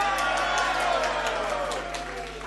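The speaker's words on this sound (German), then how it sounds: "Und jetzt bitte Jubel." Delegates at a Pirate Party state conference in Lower Saxony give a continuous burst of cheering and scattered applause with a broad crowd roar that fades slightly toward the end, over a steady low hum.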